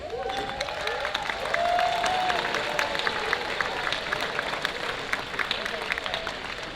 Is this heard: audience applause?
yes